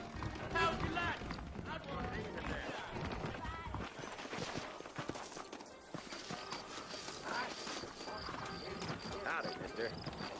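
Steady clip-clop of horse hooves walking in a rhythmic pattern in the video game Red Dead Redemption, with voices talking over them and a bed of music in the background.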